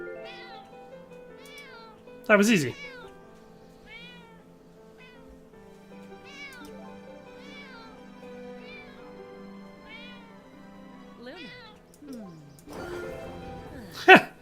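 A cat meows repeatedly in a fantasy role-playing video game while a lost cat is being searched for. The calls are clear, short and spread through the clip over soft game music, and a streamer talks briefly.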